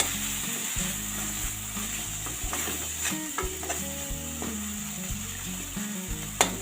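Masala of tomato and green chilli frying in a pan for a raw papaya curry: a continuous loud sizzle with rhythmic scraping and stirring knocks from a spoon against the pan.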